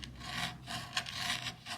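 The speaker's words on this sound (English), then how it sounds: "Like you just keep sawing at it and just rips and tears." A generic steak knife saws back and forth through a cooked steak, giving close, repeated rasping strokes with a scraping, tearing texture, about four strokes over a couple of seconds with no talking.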